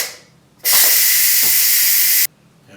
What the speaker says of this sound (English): Let's get the steam out of there.